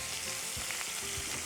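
Soaked onion and tomato sizzle steadily in hot oil with curry leaves, a continuous close frying hiss with a few soft stirring bumps and no voices.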